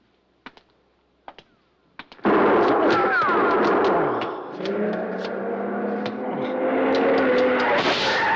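Gunshots in a 1955 radio detective drama: a few sharp, isolated cracks ring out against near silence, then a loud burst of gunfire and commotion takes over and runs on to the end.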